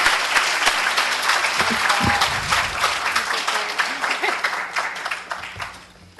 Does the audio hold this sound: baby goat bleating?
no